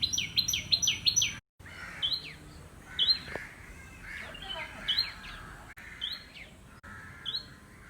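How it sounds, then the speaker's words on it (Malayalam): Small birds chirp close by in quick bursts of bright, repeated tweets, pausing briefly and then resuming with scattered calls. "ഇനി നമുക്ക് ആ കിളികളെന്ന് കാണാം, അവരുടെ ശബ്ദവും കേൾക്കാം."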